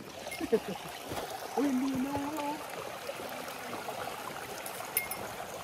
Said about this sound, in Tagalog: Nakakarinig na kami ng tubig. Baka malapit na yung ilog.